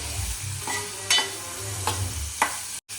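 Onion and green chilli frying in a pan with cumin and asafoetida, a steady close sizzle broken by three sharp scraping stirs of the spoon and a brief dropout near the end.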